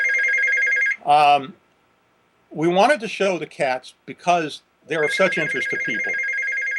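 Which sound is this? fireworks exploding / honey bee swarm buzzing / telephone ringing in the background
telephone ringing in the background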